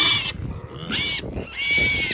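Pigs on a snowbound farm in bitter cold grunt and squeal in three loud bursts, close by, with softer snuffling and rustling between them.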